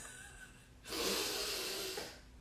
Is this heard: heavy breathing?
yes